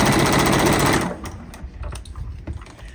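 A sewing machine stitches quarter square triangle quilt blocks in a fast, steady whirring run for about a second, close and loud, then stops, leaving light clicks and handling noises.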